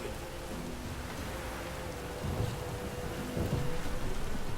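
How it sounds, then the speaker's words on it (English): Steady drizzling rain in The Witcher 3: Wild Hunt, a constant soft hiss of falling drops that fills the scene, with a few low rumbles swelling underneath toward the end. "Oh, it's drizzling."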